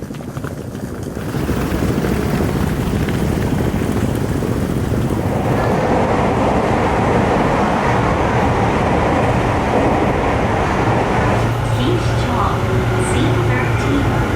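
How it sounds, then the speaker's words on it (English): A train in Japan rolls along its rails with a loud, continuous rumble and rattle, growing fuller after the first moment; no distinct voices stand out. "This is one of our last train rides."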